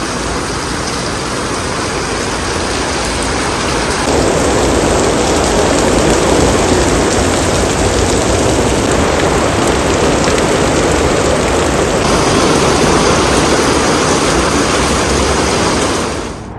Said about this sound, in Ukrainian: Дивіться, який дощ. Злива просто.